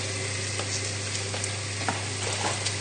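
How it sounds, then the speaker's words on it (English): Seasoned goat's cheese tart filling being stirred in a pan, a soft steady sizzle with faint scraping strokes now and then, close and fairly quiet with no voices. "Now give everything a good stir together."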